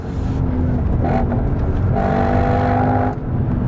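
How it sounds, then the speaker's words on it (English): A Ford Mustang Mach 1 with a V8 engine and manual gearbox on a race track, its loud rumbling engine note rising and falling as the revs change, close and steady throughout. "I've got a manual gearbox to play with and all that V8 thunder."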